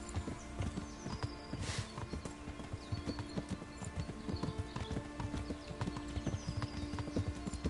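Horse hooves clip-clopping at a steady riding pace in Kingdom Come: Deliverance, continuous and even, with no talk.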